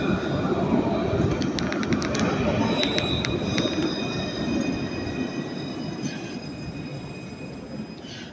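A Nice tram on lines 1, 2 and 3 departs from Jean Médecin toward Henri Sapia, a steady loud rail rumble with brief high wheel squeals early on, fading slightly as it pulls away.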